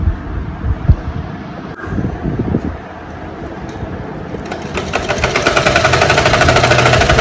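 A sewing machine running a rough stitch on a lined top's fabric, beginning with scattered handling thumps and then building into a rapid, steady mechanical rattle that grows louder and closer toward the end.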